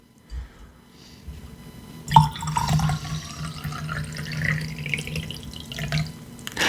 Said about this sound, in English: put water in your whiskey